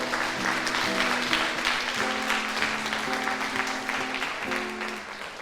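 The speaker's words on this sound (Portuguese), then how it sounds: "Aplauda ao Senhor." Church congregation clapping in praise during a worship service, steady dense applause with sustained organ or keyboard chords underneath, no voices on top.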